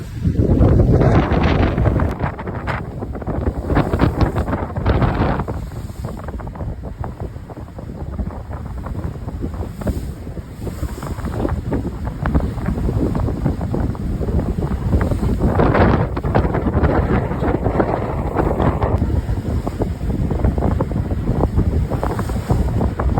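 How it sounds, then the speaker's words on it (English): Strong wind roars across the microphone on a sailboat at sea off Sami, Kefalonia, in the Greek Ionian Islands, with big waves surging and splashing throughout, loud and continuous. "The waves have been quite big and splashing up onto the onto the deck"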